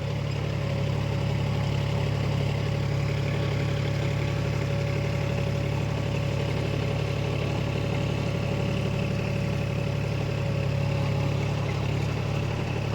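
Vehicle engine running steadily in four-wheel drive, a constant loud low drone with a droning hum throughout, close and unbroken with no pauses or voices.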